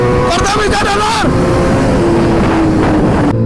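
Kawasaki ZX-10R or ZX-6R sport motorcycle revved during a power test on a Sunday ride, a loud close engine roar that climbs in pitch then settles into a steady drone, with strong wind noise and voices over it.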